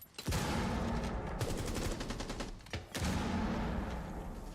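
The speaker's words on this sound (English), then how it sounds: "That's a nade that goes off" A grenade detonating in Rainbow Six Siege during a competitive esports match, with sharp, loud blasts and crackling gunfire-like bursts, one near the start and another near the end, with no voice over it.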